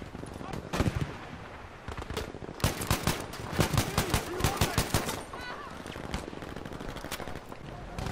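Semi-automatic rifle fire in Battlefield V, a rapid run of loud, sharp single shots spaced closely through most of the clip, with game battle noise underneath.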